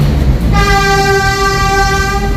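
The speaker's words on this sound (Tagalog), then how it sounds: "at ingay ng tren." A loud train rumbles past near Roosevelt while its horn blares in one long, sustained tone, drowning out the surroundings.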